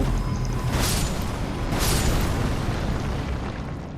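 A deep, rumbling explosion in the video game Elden Ring with two bursts of bright crackle, sustained and loud, with heavy low-end boom throughout.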